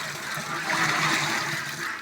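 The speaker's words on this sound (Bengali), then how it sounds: "এখন পানি দিয়ে দেবো এটাতে," Water pours into a container for animal tonic mixing, a soft steady splashing rush that swells slightly midway, fairly quiet and without speech.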